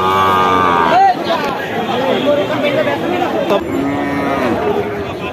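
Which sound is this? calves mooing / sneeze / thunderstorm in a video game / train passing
calves mooing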